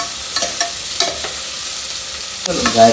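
Mint biryani ingredients stirred and frying in a pan, giving a soft steady sizzle with a few sharp scrapes of a spoon against the pan, ending in a louder burst of frying near the close.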